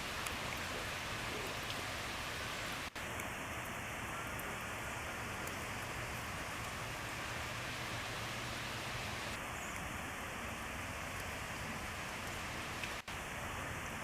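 Continuous rainfall on an open grassy area, a uniform close hiss of drops that stays level from start to finish with no other sounds standing out.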